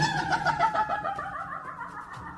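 A creaking door in a supposedly haunted house gives off a loud, squealing, warbling creak that rises and wavers for a couple of seconds, heard alone without any talking.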